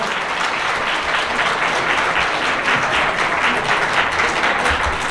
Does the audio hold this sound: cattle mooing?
no